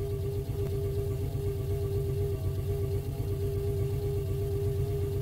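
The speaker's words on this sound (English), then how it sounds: "I'm going to start pedaling. That's about 60 RPM that I'm pedaling" Pedal-powered battery charger turned at a steady 60 RPM, a continuous low mechanical hum with a fixed pitch and a rhythmic pulsing beneath it, close and even throughout.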